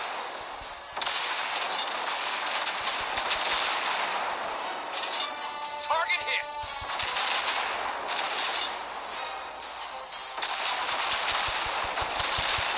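Battleship secondary guns firing in the naval video game World of Warships Blitz: a dense run of booming shots and crackling blasts over continuous battle rumble, loud and sustained with a few sharper bursts in the middle.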